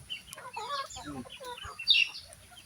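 A green-legs native chicken clucks in short, soft calls close by, with one sharper squawk near the end, while someone talks quietly in between.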